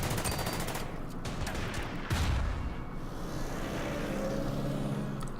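Gunfire aimed at a BA-20 armored car in the World War II strategy game Order of Battle: Panzerkrieg, a burst of sharp shots followed by a low thump and rumble, fairly quiet and with no talk.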